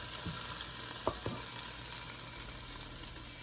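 Chopped garlic fries in melted butter in a pan before shrimp go in, producing a soft, steady sizzle with a couple of faint clicks of stirring, quiet and with no talk.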